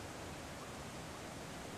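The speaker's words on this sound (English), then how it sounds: "Super loud waterfall." A loud waterfall in the video game Might & Magic X: Legacy makes a dense, even roar of rushing water that stays steady and unbroken throughout.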